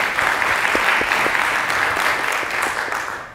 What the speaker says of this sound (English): So a warm round of applause for Jane in the theater.